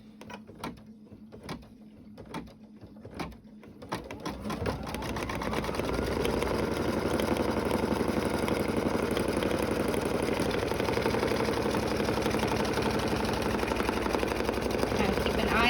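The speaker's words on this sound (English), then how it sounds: "and then you stitch it down again." An embroidery machine stitching fabric for a tea bag holder starts with a few sharp mechanical clicks, then settles into a loud, steady, rapid whirring drone of needle strokes that runs close and continuous to the end.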